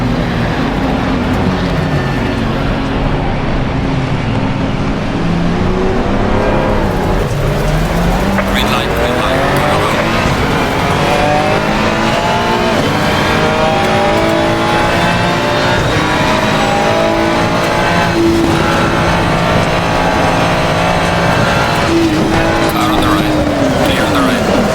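A Ferrari GT3 race car at Spa-Francorchamps in Assetto Corsa Competizione, engine howling loud and constant as revs rise and fall through gear changes, with tire squeal at times and a voice talking over it.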